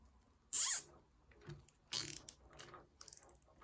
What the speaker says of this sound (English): now what we're going to do is throw a cable tie through it